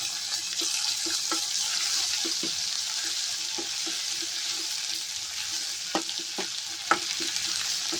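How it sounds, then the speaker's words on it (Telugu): Ginger garlic paste and turmeric sizzle steadily in a frying pan for a masala egg dish, while a spoon stirs with soft, scattered scrapes and taps close by. "అల్లం పచ్చివాసన పోయే వరకు కలుపుకోవాలి"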